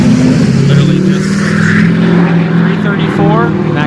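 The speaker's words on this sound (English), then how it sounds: "that guy's exhaust was extremely loud" A car with an extremely loud exhaust rumbles past on a street in Gresham, Oregon, a deep droning roar that stays heavy and steady throughout, with no talk over it.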